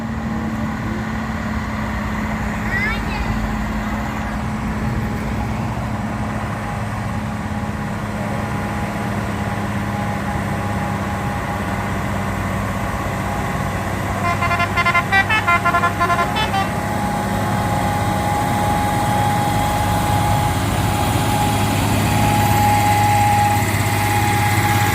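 A Fuso tanker truck's engine drones steadily and loud throughout, with a high-pitched whine and short horn toots from nearby traffic on a hill road partway through.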